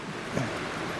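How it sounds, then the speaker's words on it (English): Rushing meltwater pours off the top of a mountain into a normally dry creek, a steady broadband wash heard close and continuous for about a second with no voices. "This is just the water coming off the top of the mountain."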